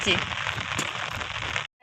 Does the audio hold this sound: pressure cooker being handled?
no